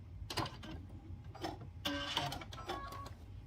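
A sewing machine back stitching at the end of a seam on a Valentine gnome craft kit, short bursts of rapid mechanical whirring and clatter with brief pauses between them, close and fairly quiet.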